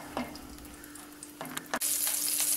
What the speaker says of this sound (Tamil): முந்திரி பருப்பை மட்டும் போட்டுக்கோங்க